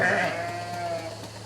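A sheep bleats once on a sheep farm, a single sustained wavering call close by, set against a steady background noise of the barn.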